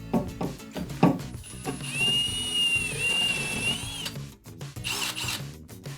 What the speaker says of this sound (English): so when you actually drill your hole